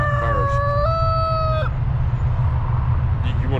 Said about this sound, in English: Young roosters.